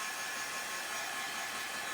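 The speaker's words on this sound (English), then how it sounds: "I would slightly dry that with my heat gun." A heat gun blowing over craft paper gives a steady, faint hiss of rushing air, continuous and unbroken throughout with no talking.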